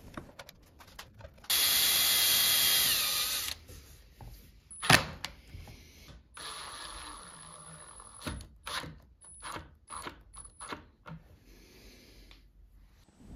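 Screws being driven into the wooden body of an electric guitar, with an early burst of steady hiss and then a run of short, close clicks and knocks of varying strength.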